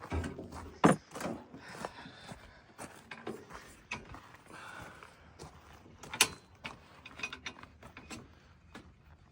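Small bolts being fastened into the lifting handle of a large off-grid backup generator during unboxing, giving irregular metallic clicks, ratcheting and clanks, close by, with no talking.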